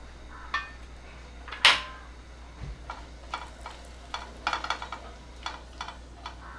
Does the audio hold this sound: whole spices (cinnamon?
yes